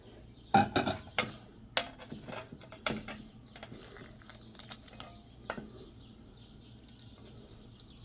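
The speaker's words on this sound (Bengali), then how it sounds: "পদ্ম গজাগুলো এখন এই শিরার মধ্যে একটু চুবিয়ে নেব।" Padma goja pastries are dipped into sugar syrup, with scattered clinks and taps of utensils against a pot, a few sharp knocks early on, then softer dripping and light scraping in a quiet room.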